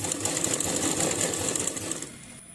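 A sewing machine top-stitching a two-piece fabric placket facing, running in a steady continuous whir close up for about two seconds before slowing and easing off at the end, with no voices.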